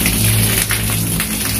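Heavy rain pours outside an abandoned tax office building in Balaraja, a dense, loud, steady hiss of falling water drumming on surfaces with no talking.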